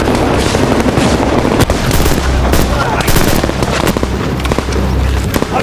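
Constant gunfire in the Best in Hell war video game during a building assault, a dense, loud stream of overlapping shots and sharp cracks with booming blasts mixed in.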